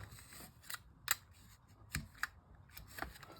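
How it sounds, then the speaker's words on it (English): A knife cuts off a section of belt, giving a few sharp, scattered snips and clicks at close range, spaced apart in a quiet setting. "I'll take a knife and you just cut it right off at that point."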